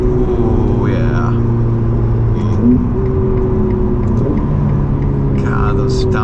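A Ferrari F8 Tributo's engine drones steadily from inside the cabin and its pitch drops in quick steps as it downshifts, while someone talks over the engine sound.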